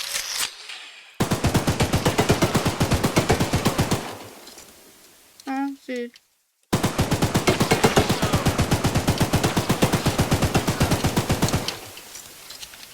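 In a video game, two long bursts of rapid machine-gun fire hammer away, separated by a pause where someone speaks briefly in French.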